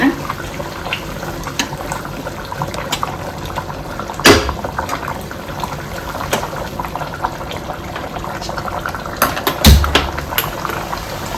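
Water poured into a pan on a gas flame at medium heat while apple payasam cooks, a steady splashing, frothy rush with a couple of sharp clunks from utensils, close and fairly loud.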